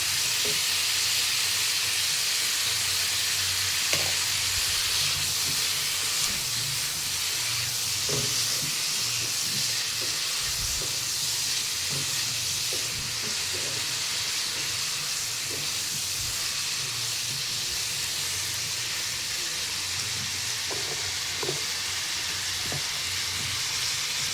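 A paste of cumin, green chili and ginger goes into vegetables already frying in a pan. A steady, loud, hissing sizzle runs throughout, with scattered small pops and clicks.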